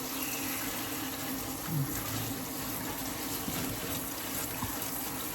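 Water pours in a steady, continuous gush close by while vegetables are prepared for quick pickling, a broad even rush with no pauses.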